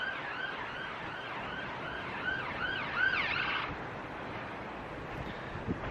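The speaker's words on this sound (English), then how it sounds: "There's a lot of sirens in the background in the city at the moment" Wailing emergency sirens rise and fall in the distance over a steady city hum in Birmingham, fading out after a few seconds.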